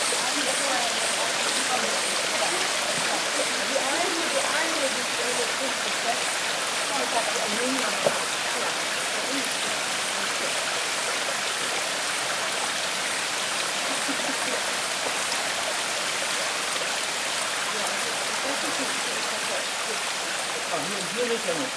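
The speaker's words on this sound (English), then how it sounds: "And there's the waterfall, not much water now in summer, but beautiful moss-covered waterfall." Steady rushing water fills the air, a continuous broad hiss of a small moss-covered waterfall and stream on Table Mountain at low summer flow, unchanging throughout.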